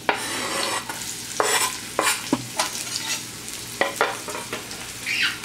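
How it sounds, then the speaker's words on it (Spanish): Chopped onion sizzles in a frying pan while a utensil stirs and scrapes it, a steady hiss punctuated by repeated clicking strokes, close and alone. "Vamos a sofreír un poco."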